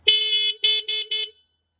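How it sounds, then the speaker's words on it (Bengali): A vehicle horn sounds four times in quick succession, one longer blast followed by three shorter toots, loud and close with silence afterward. "হর্ন দিন"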